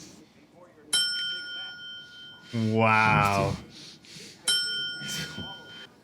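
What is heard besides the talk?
small hand bell ringing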